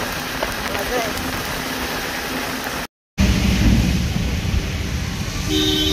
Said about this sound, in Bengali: প্রচন্ড বৃষ্টি হচ্ছে মহালয়ার সকালে।